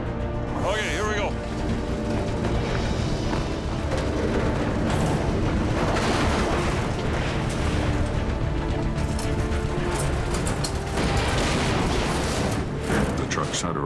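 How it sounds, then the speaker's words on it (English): A heavy tow truck winches a semi truck away from a boulder in a rock-slide canyon, with loud continuous engine roar, straining mechanical noise and sharp knocks throughout. "Now Al will attempt to winch the semi away from the boulder."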